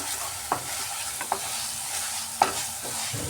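Egg tikka masala gravy with yogurt being stir-fried over medium heat, a low steady sizzle broken by three sharp spatula scrapes against the pan, with no voices.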